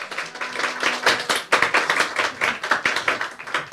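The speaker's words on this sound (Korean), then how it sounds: "박수 한번 부탁드릴게요." A small audience claps together during a drum lesson held in a church service, producing a brief, dense burst of hand claps that stays steady and close for a few seconds.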